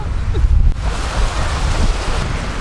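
Ocean surf at a Florida beach at Smyrna Dunes Park, a steady broadband wash of breaking waves mixed with wind rumble against the microphone, continuous and fairly loud throughout with no talking.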